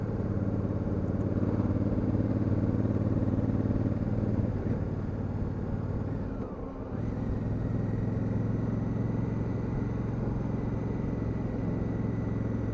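A 2019 Honda CRF1000L Africa Twin motorcycle engine drones steadily and close while riding, with a brief dip and throttle blip around a quick-shifter gear change partway through.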